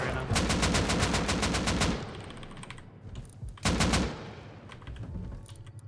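Rapid automatic AK rifle fire in the survival game Rust, a long dense burst followed by a shorter second volley and a few scattered shots, crisp and close.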